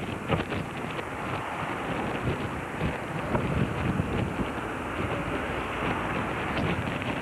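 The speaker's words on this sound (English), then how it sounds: "Gee, damn wind. Yeah, this wind is a pain in the butt." Strong wind buffets the microphone at an outdoor sports game, a dense, continuous roaring rush with irregular gusty swells over its whole length.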